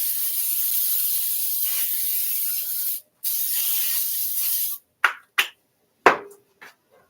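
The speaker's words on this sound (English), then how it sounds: "So I'm just going to spray this pan." Cooking spray hisses onto a pan in a long, close, steady burst, pauses briefly, continues, then ends with a few clicks and small knocks as the can is handled.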